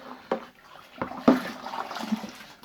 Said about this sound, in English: I'll bring it up to about there in water